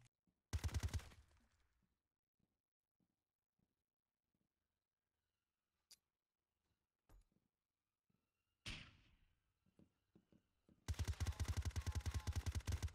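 Gunfire in the video game Zero Hour: a loud burst of rapid shots, then scattered single cracks and thuds, another short burst, and a sustained heavy rapid volley at the end.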